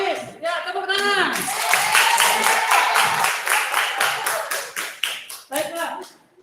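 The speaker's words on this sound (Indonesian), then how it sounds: "Ya, tepuk tangan." A classroom of students claps together at the teacher's call, a dense, fairly loud burst of hand claps lasting several seconds, with brief voices at the start and a few scattered claps trailing off at the end.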